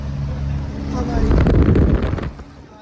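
A car cruising on the Lucknow–Agra Expressway gives off a deep, droning rumble with wind buffeting, swelling louder midway and then easing back, like a ship's engine hum.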